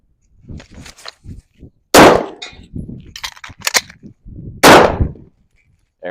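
Several loud, sharp gunshots from a handgun at a shooting range, including two especially strong close reports a few seconds apart, with quieter clicks and handling of magazines between them; no talk.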